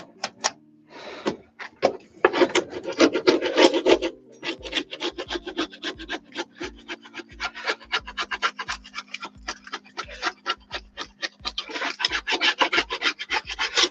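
A thick, stiff scraper works over a model railway module built with Kato Unitrack, making close, dry, rhythmic rasping strokes, quick and fairly loud, continuing steadily throughout.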